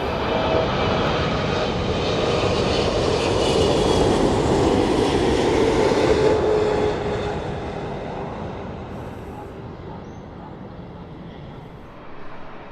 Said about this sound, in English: British Airways, the big Boeing 777-300 coming in